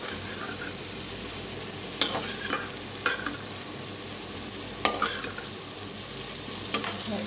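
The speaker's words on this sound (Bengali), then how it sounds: "মশলাগুলো আমি হাফ ভাজা করে তারপর আমি এগুলো সব দিয়ে দেবো" Spices half-fried in a pan for chalkumro ghonto with ash gourd sizzle steadily, punctuated by several sharp clinks and scrapes of a spatula stirring.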